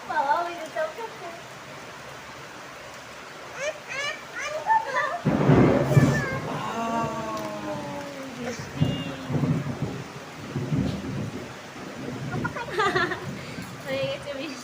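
A village thunderstorm with steady rain, a loud thunderclap rolling through the middle, while children and an adult chatter excitedly over the downpour.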